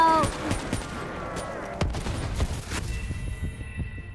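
Rapid bursts of gunfire from the Call of Duty: Black Ops III video game, sharp repeated shots and a few heavier booms over a steady background of game noise.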